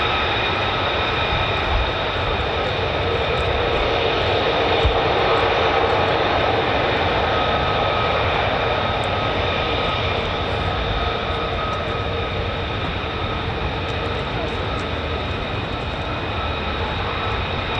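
A US Air Force fighter jet, an F-15 or F-35, flies near RAF Lakenheath with a loud, sustained roaring engine drone that holds steady and close throughout, with no voices.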